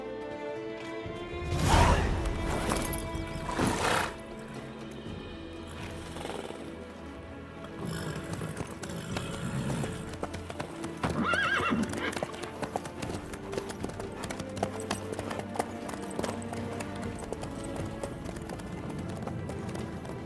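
Horse hooves clip-clop steadily on a road in The Witcher 3, with a neigh near the start, while people talk over the rhythmic footfalls.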